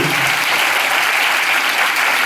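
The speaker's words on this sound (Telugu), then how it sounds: "చప్పట్లు కొడతారా సరే" A congregation at a prayer house applauding, a dense, steady wash of many hands clapping close and loud for the whole stretch, with no voices standing out.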